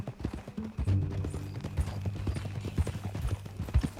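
A horse trots along in the video game Red Dead Redemption 2, its hooves clip-clopping in a steady, even rhythm. The hoofbeats are close and moderately loud over a low ambient rumble.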